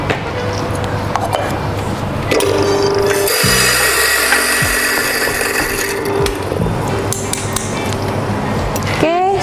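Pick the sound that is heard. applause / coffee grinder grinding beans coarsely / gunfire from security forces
coffee grinder grinding beans coarsely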